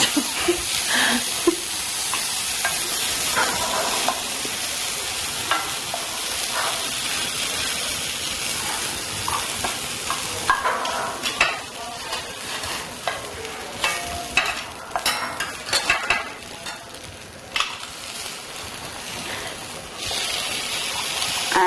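A potato and herb filling is stirred in a hot pan, sizzling and hissing steadily. Irregular scraping and stirring strokes rise above the frying noise throughout.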